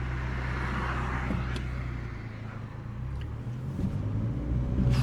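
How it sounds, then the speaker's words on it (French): A Mini GP3 hot hatch rolls over a speed bump, heard from inside as a steady engine and road rumble with a low thump and some cabin rattles. "quand je prends un casse-vitesse, les amis, c'est pas le véhicule le plus agréable du monde"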